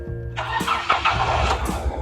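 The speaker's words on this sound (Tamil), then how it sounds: "வண்டி ஸ்டார்ட் பண்ணிட்டேன்." A 2012 Mahindra Xylo's engine cranks and catches, with a starter whir giving way to a steady, close running engine that fills the short stretch.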